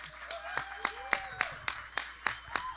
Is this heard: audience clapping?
yes